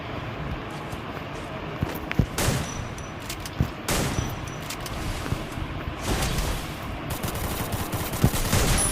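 Rapid video game gunfire crackles in repeated bursts of shots with sharp transients, sounding near and fairly loud against a constant busy game background, and no one talks over it.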